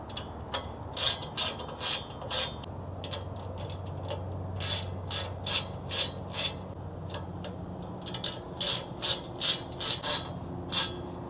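Ratchet wrench clicking as bolts are snugged down on a Rad Racks bike rack during assembly, sharp bursts of close, crisp ratcheting repeated in short strokes with brief pauses between them.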